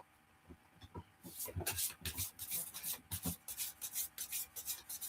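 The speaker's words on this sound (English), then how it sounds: "they're making me shuffle this one" Tarot cards shuffled by hand during a goddess-themed reading, giving a run of quick, soft riffling and rubbing bursts that become dense and steady after the first second, fairly close and quiet, with no clear talk.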